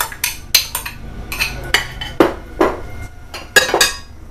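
Chopped vegetables for a cooled nopal salad tumble into a dish in a run of sharp clinks and clatters, a utensil knocking against the bowl at an uneven pace, close and clear, with no talk.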